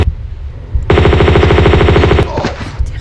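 Gunfire in the video game Tomb Raider 2, a loud rapid burst of automatic shots in an even stuttering rhythm lasting over a second, with softer game sounds before and after.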